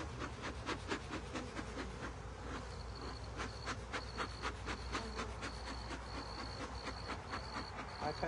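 Honeybees buzz in a dense, continuous drone during an open hive check, with individual bees whining closer in and out over a constant background hum.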